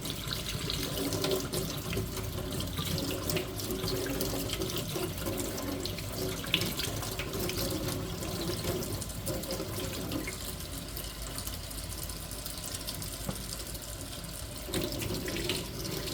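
A kitchen or bathroom tap runs steadily while a makeup brush is rinsed under it, a continuous close hiss of flowing water with slight splashy changes and no talking.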